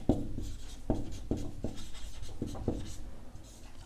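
Pen scratching across paper while working a Class 9 maths problem on cone slant height and diameter, a series of short soft strokes with faint low voice sounds underneath.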